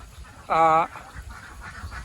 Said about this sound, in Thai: เป็ดเรานะครับ เดี๋ยวก็จะปล่อยให้เขาไป เดินเลแบกว่ายน้ำท่าที่อุดมสมบูรณ์